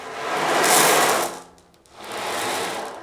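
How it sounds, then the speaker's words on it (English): An ocean drum gives a steady rushing swish of pellets rolling across its drumhead, like waves washing in, pausing briefly before a second wash of surf-like hiss. "I have here an ocean drum, and it sounds like this."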